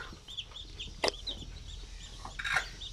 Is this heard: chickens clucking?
yes